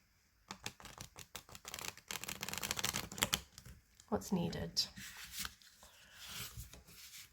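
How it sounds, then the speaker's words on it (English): Oracle cards being corner-shuffled by hand, producing quick rustling, flicking card riffles in bursts, close and fairly crisp, with a person speaking briefly in between. "You can see it shuffles beautifully. I corner shuffle, but I think it could easily riffle."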